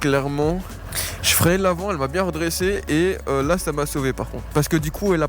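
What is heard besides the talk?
None of the usual background noises is heard.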